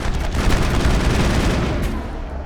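Gunfire in the video game Mass Effect, including shotgun and heavy machine gun, a dense loud burst of rapid shots and booms packed together without pause, fading slightly at the end.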